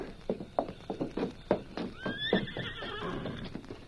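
Horses hitched to a stagecoach whinny and neigh, with a rising whinny in the middle, over a few hoof clip-clops, moderately close and fairly quiet.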